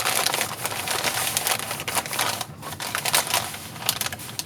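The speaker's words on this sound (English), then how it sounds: "Push the bag down on it." A paper bag, being shaped into a pumpkin craft, is pushed down and crinkled by hand in a steady run of close, dry rustles and crackles that lasts several seconds, with no talk over it.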